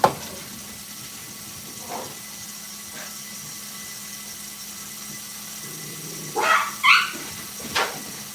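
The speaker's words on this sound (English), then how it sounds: "my dogs are barking at literally nothing." Dogs bark indoors in a kitchen, a few sharp, somewhat distant barks near the end over a low steady hum, with faint quieter yips earlier.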